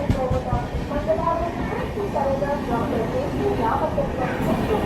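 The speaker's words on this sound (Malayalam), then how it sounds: "ഇപ്പോൾ ട്രെയിൻ കയറി വന്നു." Mangalore–Chennai Central superfast express train pulling in at a busy platform, a steady loud rumble and rolling rattle throughout, with crowd chatter and voices mixed in.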